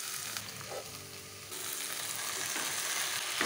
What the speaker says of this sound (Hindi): साग को पूरा अच्छा से मसाला के साथ मिक्स कर देंगे